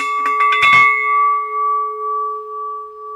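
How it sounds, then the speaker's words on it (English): A painted tank bell is struck a few times, then one clear metallic tone rings on and slowly fades, humming steadily. "This is a great little bell. It's got a nice sound to it due to its thickness,"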